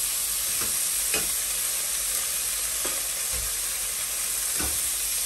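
Cleaned sardines frying in a pan, a steady close sizzle and hiss running throughout with a few soft stirring scrapes and clinks breaking through at intervals.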